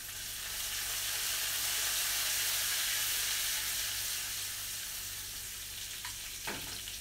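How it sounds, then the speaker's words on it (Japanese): Parsley and garlic fry in olive oil in a frying pan for a garlicky tomato carrettiera pasta, giving a steady, even sizzle up close with a faint clink of a utensil near the end. "このタイミングでパセリも炒めていきます。"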